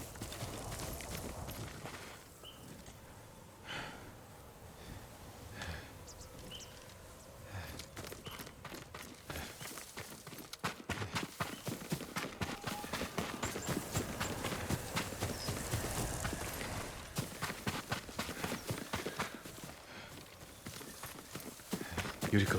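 Horse hooves in Ghost of Tsushima: steady clip-clop, fairly close, with a denser galloping rhythm building toward the end over a rustling background.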